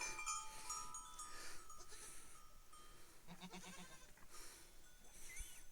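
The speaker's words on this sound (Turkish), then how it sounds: "Ufak bu senenin kuzuları, şey, oğlakları." Young goat kids bleat on a farm among wandering livestock, several short high cries repeating in quick bursts, fairly close but soft, with no talking.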